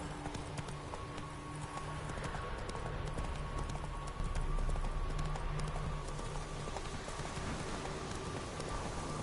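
Hooves of Geralt's horse Roach clip-clop steadily in The Witcher 3, a continuous rhythmic trot under a rainy, noisy game ambience that swells slightly midway.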